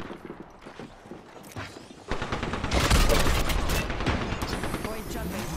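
Rapid bursts of gunfire from Apex Legends, a dense loud fusillade that builds from about two seconds in and keeps rattling close by, with a voice speaking over the shooting.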